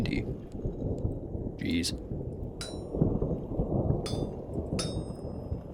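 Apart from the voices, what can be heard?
thunderstorm in video game Vintage Story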